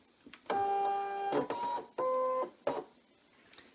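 A cutting machine with a scanning mat loaded into it gives off two steady tonal motor whirs, one longer than the other, with short clicks around them. The sound is close and quiet and stands on its own.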